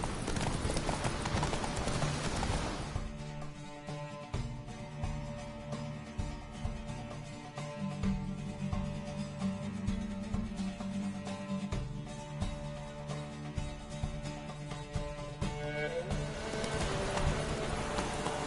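Roach, a horse in The Witcher video game, gallops with a steady, close clip-clop of hooves that runs nearly the whole time, loud and continuous, with brief louder stretches at the start and end.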